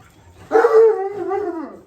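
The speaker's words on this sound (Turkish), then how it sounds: "Burayı ayağa kaldırır bu köpekler." A single dog's drawn-out bark that trails into a whining howl, close and loud against a quiet background.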